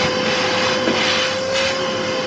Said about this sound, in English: The vacuum cleaner consumes 1200 W.